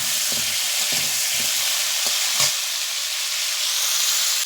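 Hog plums frying in a pan with mustard paste sizzle loudly and steadily, while spatula stirs add a handful of soft scraping knocks, with no one speaking.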